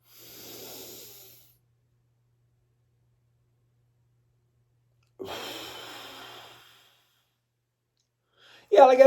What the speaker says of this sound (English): You're going to hold your breath so that the moisture works on the air. And then you're going to blow out.